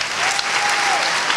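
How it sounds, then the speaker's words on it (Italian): A crowd at a cabaret festival in Modena breaks into dense, continuous applause, a loud, even wash of clapping heard close and alone. "fatemi un bel applauso!"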